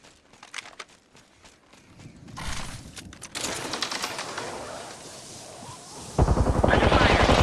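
Gunfire in a combat game under fire, scattered sharp shots at first, then thickening into sustained rapid bursts that grow louder and denser toward the end, with game sounds underneath.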